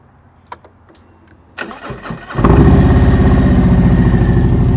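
A motorcycle engine fires up during a slow-speed riding practice session in Washington, with a few faint clicks first, then a loud, steady, close running rumble that holds evenly through to the end.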